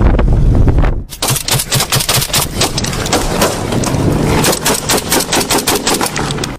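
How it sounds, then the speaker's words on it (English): Robbers and police officers exchange gunfire in South Africa: a dense, loud, close run of rapid overlapping shots, fast and irregular, continuing for several seconds with no talk over it. "the culprits were now firing at the officers"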